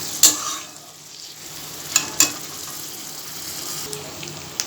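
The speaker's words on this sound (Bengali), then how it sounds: "এবার আমি কষানো হোক" Spice paste sautés in oil for a banana-flower ghonto, with a steady sizzle and stirring broken by a few sharp utensil clinks against the pan.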